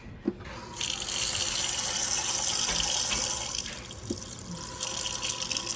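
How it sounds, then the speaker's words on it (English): Tap water gushes steadily into a kitchen pot holding seasoned chicken for chicken and dumplings. The splashing rush begins after a small clank and runs on for about five seconds, rising in pitch slightly as the pot fills. "And I'm gonna add water."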